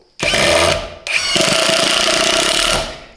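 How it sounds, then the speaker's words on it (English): A DCK KDPL03-14 20V impact driver with a 4Ah battery drives a 3-inch screw into pressure-treated lumber, giving two loud, close bursts of rapid hammering rattle separated by a short pause. "We're going to see how it drives a 3-inch screw."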